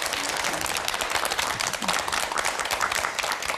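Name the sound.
studio audience applause welcoming a guest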